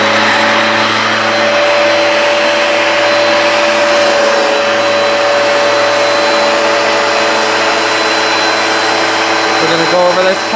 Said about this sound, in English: Alright, it's the forward wet pass.